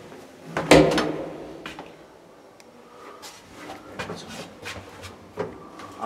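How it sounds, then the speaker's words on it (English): A door closes with one solid thud on a 1929 KONE M traction elevator in a Helsinki building, followed by softer clunks and rattles of the old lift mechanism nearby. "I'll close the door for you."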